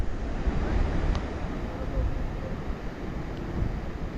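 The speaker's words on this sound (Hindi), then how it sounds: "जो लहरों की वगैरह आवाज़ है," Steady broadband roar of surf washing onto Banaulim Beach in South Goa, continuous and fairly loud, with wind rushing across the microphone.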